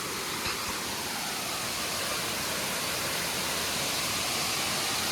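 Steady, loud rushing water roars continuously at a dam, a broad unbroken wash of sound with no voices.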